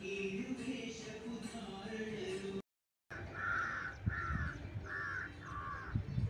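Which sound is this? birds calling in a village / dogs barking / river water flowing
birds calling in a village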